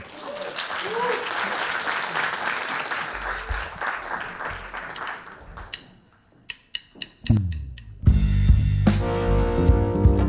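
A concert audience applauds a singer in a steady wash of clapping that thins out into scattered hits and then gives way to loud music.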